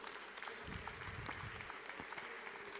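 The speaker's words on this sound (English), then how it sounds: "you're going to give another round of applause to the kids in the class." Applause for schoolchildren at a live class during a food and drink festival in Lagos, Nigeria: a crowd clapping steadily at moderate distance, fairly faint under a noisy room.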